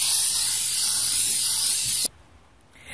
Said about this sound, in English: I'm going to spray paint it with this high heat spray.